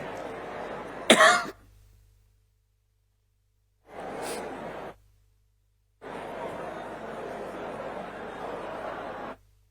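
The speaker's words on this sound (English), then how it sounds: "I have a bad cough." A sharp, harsh cough bursts out, followed after pauses by two longer rough bursts that sound like further coughing or throat clearing, close to the listener.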